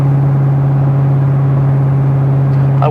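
A Corvette C6Z with an LS7 V8 drives along on a morning run, a loud steady low drone with a constant engine hum and a brief rising whine near the end.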